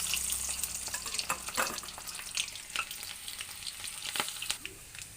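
Cut broiler chicken sizzles and crackles steadily in hot oil, a dense continuous frying hiss with scattered pops and occasional stirring scrapes, close by and with no talking.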